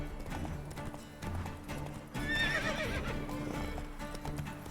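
Roach the horse gallops in The Witcher 3, a fast rhythmic clip-clop of hooves with a sharp neigh partway through, close and steady over faint game background.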